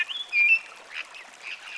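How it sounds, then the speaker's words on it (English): A Cape parrot from the misty highlands of South Africa gives a short, harsh squawk and a couple of softer rasping calls, close and clear with no other sounds around. "the Cape parrot graces the skies with its regal presence."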